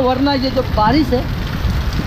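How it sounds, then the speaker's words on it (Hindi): Steady rain falls in a continuous broadband hiss while someone speaks over it, the downpour heavy and close throughout. "ये जो बारिश है डुबा देगा।"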